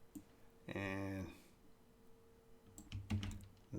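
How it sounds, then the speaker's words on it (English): Someone typing a word into an online dictionary on a computer keyboard, heard as a short, faint burst of key clicks with a brief tonal blip before it. "Let's type in anxiously."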